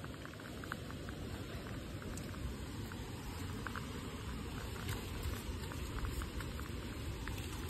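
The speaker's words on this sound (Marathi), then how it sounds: "पाऊस यायला लागलाय फोन भिजायला लागलाय" Steady monsoon rain falls during a motorcycle ride near Kolhapur, a dense, even hiss of drops that stays constant and fairly faint throughout.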